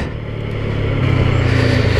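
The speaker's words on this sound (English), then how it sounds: "it's easy to enjoy this bike when you're cranking open the throttle" A TVS Apache RTR 160 4V motorcycle engine with the throttle opened drones steadily and builds in loudness as revs climb, with wind rush close to the rider.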